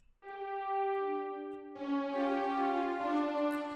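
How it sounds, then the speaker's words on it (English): A big orchestral patch from the Heat Up 3 plugin in FL Studio plays two sustained notes, the second entering fuller and brighter, steady and fairly quiet with no voice. "So I'm in Heat Up 3. I got this big orchestra."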